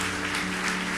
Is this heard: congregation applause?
yes